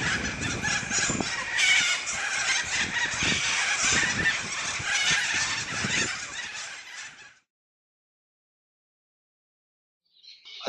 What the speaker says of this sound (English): In the evenings, cockatiels roost by the thousands in the trees around town.